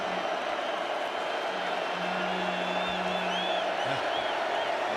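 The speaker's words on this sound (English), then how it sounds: "Tapu is asking for crowd noise from the partisan crowd here, and they respond" A partisan stadium crowd at a college football championship game between Oregon and Utah keeps up a steady roar of cheering and noise, with whistles rising above it and no clear voices.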